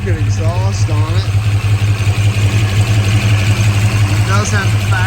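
A 1967 Shelby GT350 with a Paxton-supercharged 289 HiPo V8, factory K-code exhaust manifolds and changed mufflers idles with a steady low rumble, while someone talks over it close by.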